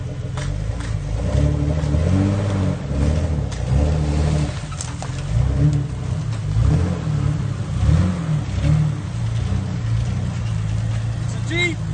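A Jeep wrecked by Hurricane Michael revs its engine close by in a steady, throaty drone with rising surges, while voices talk over it throughout.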